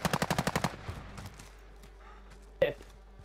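Gunfire in the video game Call of Duty: Modern Warfare, a quick burst of about eight automatic shots followed by a lull and then a single sharp shot.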